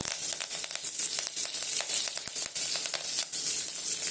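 Green chillies and curry leaves sizzling in hot oil for rasam, a steady soft crackling fry with bursts of popping spatter, close and fairly quiet, no voices.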